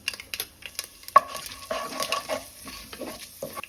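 Mustard seeds, cumin, chana dal and urad dal crackle in hot oil in a pan for poha. Faint sizzling comes with frequent sharp spatula scrapes and a clink against the metal, close up and quiet, with no talk.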